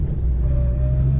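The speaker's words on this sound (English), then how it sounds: "because this transmission has a straight cut gears, it sounds like a race car" A 1976 first-generation Honda Civic drives with a steady engine drone and a thin, high whine from its straight-cut transmission gears running through it, close and fairly loud, no voices.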